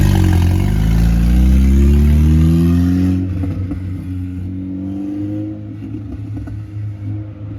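A BMW 240 revs hard as it pulls away from a car meet, its engine note climbing loud and close before easing into a lower rumble as the car moves off.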